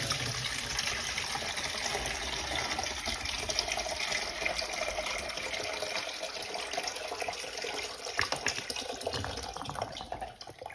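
A toilet flushes, a steady loud rush and gush of water filling the bowl for about ten seconds, with no voices over it.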